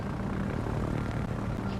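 Aircraft carrier plane groups fly in World of Warships, a dense, continuous propeller-engine drone that stays steady and loud throughout the short stretch.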